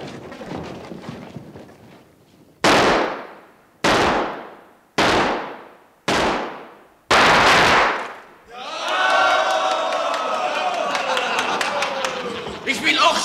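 Gunshots ring out in a 1981 film scene: five loud, evenly spaced pistol cracks, each with a decaying echo, followed by a dense burst of crowd noise and clatter.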